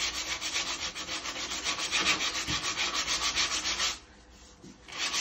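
A sheet of sandpaper rubs back and forth over dried putty in quick rhythmic strokes, close and clear, then pauses briefly near the end before a faint final scrape.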